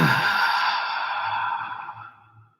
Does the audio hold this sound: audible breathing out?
yes